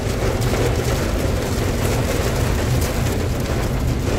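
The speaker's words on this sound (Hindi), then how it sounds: "रीवा पहुंचते ही बारिश" Rain falling on a road on arrival in Rewa, a steady dense hiss with a low rumble underneath that stays constant throughout, with no voices.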